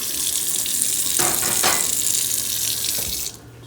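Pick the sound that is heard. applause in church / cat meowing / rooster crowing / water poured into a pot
water poured into a pot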